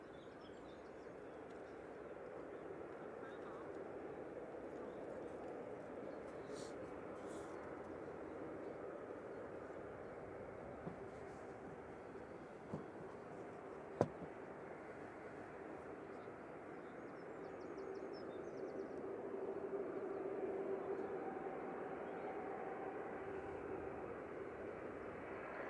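A Corendon Airlines Boeing 737-800 in Hull City livery, registration 9H-CXG, departs Manchester Airport for Heraklion. Its jet roar is a steady, distant rumble that swells slightly toward the end, with a few faint clicks.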